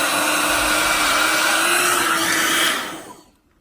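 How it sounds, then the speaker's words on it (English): Conair InfinitiPro Spin Brush hot air hair blower running steadily with a loud, even airflow whoosh and a faint motor whine, then cutting off and winding down to silence near the end. "work the hair blower just like up and down like this"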